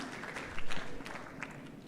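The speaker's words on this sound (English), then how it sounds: "big round of applause for him" Applause at a business forum opening ceremony, a brief, fairly quiet patter of clapping from a hall audience, with a couple of louder claps near the start.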